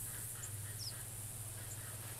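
A goose in theHunter Classic hunting game gives a few short, faint honking calls spread across a quiet outdoor ambience with a steady low hum underneath.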